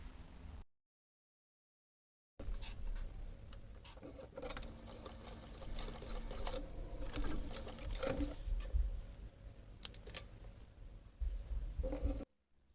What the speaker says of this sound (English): I'm gonna use the sewing machine